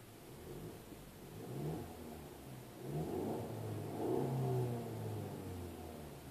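A 2017 Mercedes-Benz C-Class engine starts and runs at a moderate level, with a steady mid-pitched hum that swells slightly a few times as it settles, close by with no talking.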